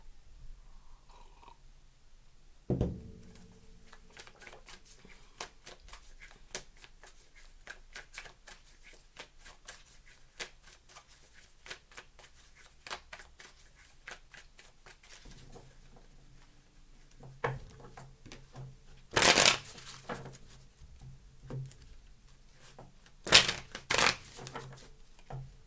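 Tarot cards are shuffled in quiet, scattered bursts of crisp papery clicks and riffles, close and soft, with a few louder slaps of the deck.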